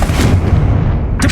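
A Confringo blasting spell in Hogwarts Legacy fires as a loud, dense burst like artillery, a thick booming roar lasting about a second and ending in a brief crackling snap, close and alone.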